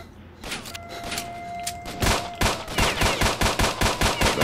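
Gunfire in the Stalker shooter game: a few scattered shots and metallic clicks, then a steady rapid string of close, loud automatic rounds firing in even rhythm.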